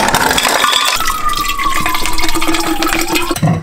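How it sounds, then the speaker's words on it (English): Water pours into a custom Hydro Flask bottle, a close, steady rushing gurgle whose pitch climbs as the bottle fills, ending with a brief clink. "I think I have to fill it with some water"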